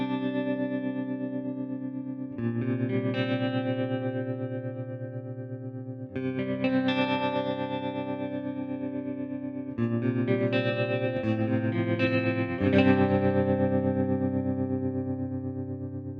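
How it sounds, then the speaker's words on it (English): Sustained distorted electric guitar chords through a guitar amp modeller, pulsed by a fast, steady tremolo that chops the notes and their reverb tails into rapid throbbing, played loud and alone. "have a listen to how even the reverb gets chopped and everything gets chopped"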